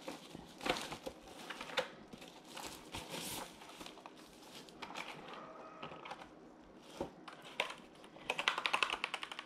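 A Keychron K8 mechanical keyboard with red switches clatters through irregular bursts of typing, fairly faint and close, with a faster flurry of keystrokes near the end.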